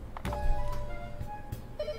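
A phone in a horror video game dials out to call a taxi at an airport, sending a short series of soft beeping tones and clicks, fairly quiet and heard alone.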